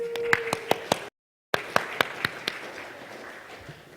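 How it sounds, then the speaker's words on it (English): Scattered applause rises from a small audience at the Toorcon 2007 security conference: sharp, distinct hand claps at an uneven, moderate pace, briefly cut out by a moment of dead silence before resuming and thinning away. "Clap, please."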